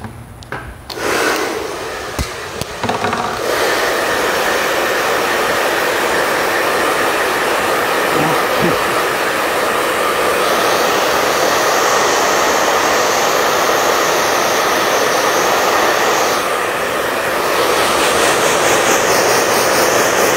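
A loud, steady hair dryer blows continuously at close range, its airflow roaring evenly with slight shifts in pitch as it moves.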